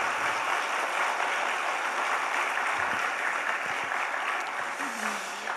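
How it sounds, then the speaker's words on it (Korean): A church congregation in Changwon gives applause of encouragement to its students, an even rush of many hands clapping at moderate level, steady throughout and fading slightly at the end. "우리 격려의 박수 한번 더."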